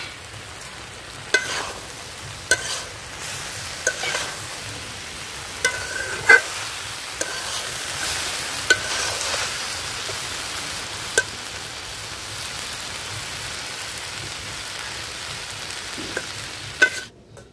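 Prawns frying and being stirred in a pan during village cooking, a steady soft sizzle with repeated sharp scraping clicks from a utensil throughout, no talking.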